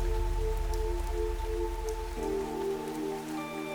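Steady rain falls in the video game Fantasian: Neo Dimension, a constant close hiss of drops that carries throughout beneath sustained musical tones.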